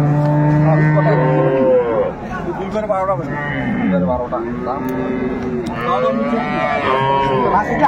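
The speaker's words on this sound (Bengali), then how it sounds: "গাভী বাছুর আমরা দেখলাম," Dairy cows and calves low at a rural cattle market in Ambari Haat, Dinajpur, with several long, loud moos overlapping one another close by while people talk and bargain throughout.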